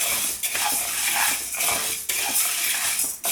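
Whole urad dal is dry-roasted in a pan, the small lentils scraped and stirred with a metal spoon that clinks and rasps against the pan in short repeated strokes, up close with no talk.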